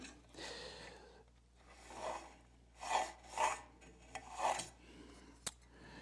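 A steel card scraper with a 45-degree bevel being burnished along its edge, a series of short metallic rubbing strokes in uneven bursts, close and fairly quiet, ending with a sharp tap.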